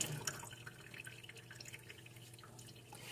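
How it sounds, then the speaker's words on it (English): Water drips and trickles from a U-part wig as it is wrung out over a sink, a faint, close, continuous patter of small splashes with no talking. "I'm wringing it out just to get all the excess water out."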